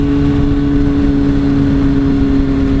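A motorcycle engine hums steadily while riding, a loud, constant mid-pitched drone with a strong tonal note and wind rush and no changes in revs.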